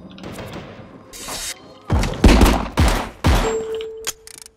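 Several sharp pistol gunshots from the video game RICO crack out in irregular succession, loud and close, with a metallic ding and a brief electronic tone between them.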